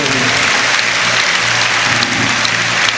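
Loud, steady applause from a crowd at a Catholic youth congress during a festival, continuous clapping throughout with no talk over it.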